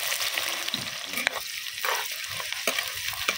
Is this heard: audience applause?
no